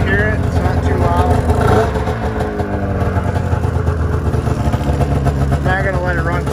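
A 2006 F7 engine fitted with a new MBRP exhaust can runs steadily at idle, a loud, close, continuous rumbling drone with slight wavering throughout.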